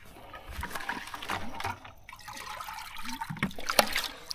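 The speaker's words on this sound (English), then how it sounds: "I might just throw some water in the bucket." Water is tipped into a bucket while out catching yabbies outdoors, a trickling, dribbling pour heard up close with a few splashes and no talk over it.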